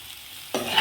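Cauliflower and potato curry with curry leaves and white salt is stirred in a pan: quiet frying, then a sudden close scrape and sizzle as the spoon moves through.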